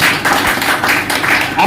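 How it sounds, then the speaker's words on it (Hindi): A crowd at a business development training session in Kaushambi claps steadily and loudly, with dense overlapping applause that holds for the whole moment. "ऐसे लोगों के लिए जोरदार ताली जाए।"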